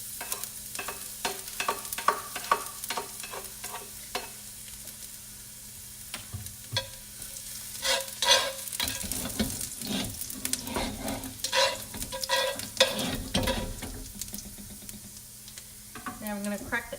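Garlic stir-frying in a hot pan for fried pho noodles, with steady sizzling under repeated sharp scrapes and clanks of a utensil against the pan, some bursts louder as the stirring picks up.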